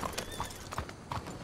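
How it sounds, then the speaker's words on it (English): A horse in the video game Red Dead Redemption clip-clops with quick hoofbeats and gives a brief whinny, heard close and clear. "We're gonna call this horse Feller."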